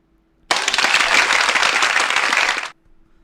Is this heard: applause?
yes